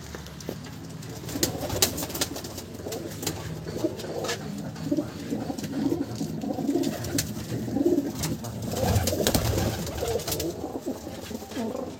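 Fancy pigeons such as Teddy, Kamagar, Kaldom and Kalsira breeds cooing in a pigeon loft, a continuous chorus of low overlapping coos with scattered flutters and clicks throughout.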